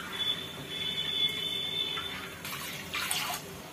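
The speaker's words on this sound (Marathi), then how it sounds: "या कढईमध्ये पाणी घालायचं आहे।" Water pours into a wok to make rice flour kurkure dough, a soft steady trickling stream close by, ending in a brighter splashing rush, with no talk.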